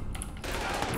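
Gunfire from a hard-recoiling gun in the online shooter APB Reloaded, a dense, continuous burst of shots filling the whole second at close range.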